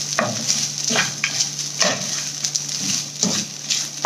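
Lemon rice being stirred in a pan, a spoon scraping and turning the grains in a steady rhythm of swishing strokes over a soft background sizzle, close and fairly loud, with no talking.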